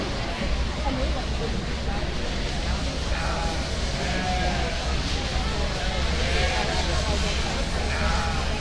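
Market lambs bleating in a crowded arena at the Arizona National livestock show, with scattered bleats rising over a constant din of crowd chatter and hall noise.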